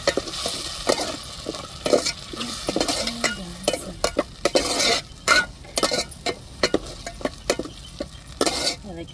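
Onions, tomatoes and chili sautéing in oil for an egg curry: a soft sizzle runs under repeated metal spoon scrapes and clinks against the pan, with irregular stirring strokes close by.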